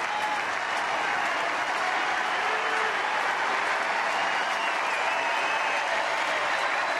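Baseball crowd in a stadium cheering and applauding, a dense continuous roar of clapping and shouts, loud and sustained for the whole stretch.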